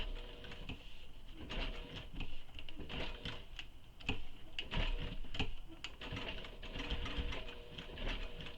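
A sewing machine stitches fabric for a tote bag with a steady, continuous mechanical whir and rapid needle clatter, close and fairly loud, with no talking.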